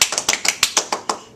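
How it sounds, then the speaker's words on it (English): A short burst of hand clapping, about ten distinct claps in a loose, uneven rhythm, close and fairly loud, fading toward the end. "let's have a round of applause for that"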